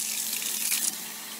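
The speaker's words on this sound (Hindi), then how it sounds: "आपने इसमें जो है ठंडा पानी डालना है" Cold water poured over soaking wheat dalia, a steady gushing wash like a tap filling a bowl, close and continuous with a brief surge near the end.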